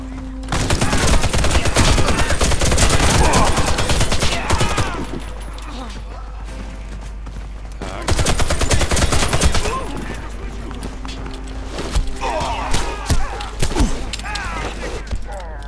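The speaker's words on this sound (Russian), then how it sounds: "Блин, кто стреляет?" Gunfire in the video game Warface, dense bursts of rapid shots and fusillades rattling in loud waves with brief lulls between them, close and intense, with people talking under it.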